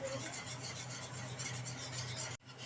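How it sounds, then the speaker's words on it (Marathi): Spinach bhaji mixed with gram flour is stirred with a wooden stick in a pan: a steady, continuous rasping scrape with a low hum underneath, ending in a brief pause before the scraping resumes. "चना डाळीचं पीठ टाकून अशी हटून घ्यायची आहे भाजी काडीच्या साह्याने"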